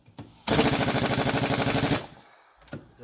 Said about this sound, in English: See if the impact will do a better job on her.